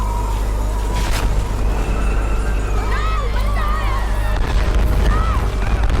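In the Tomb Raider video game, a steady roaring rush of strong wind, with deep rumbling explosion booms underneath and faint tonal sounds rising over it throughout.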